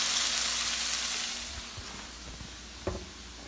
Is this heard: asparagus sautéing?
yes